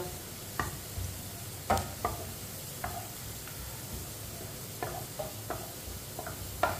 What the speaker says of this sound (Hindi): प्याज को ना अच्छी तरह ब्राउन करना है।